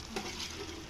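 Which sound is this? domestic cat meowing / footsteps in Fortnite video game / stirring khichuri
stirring khichuri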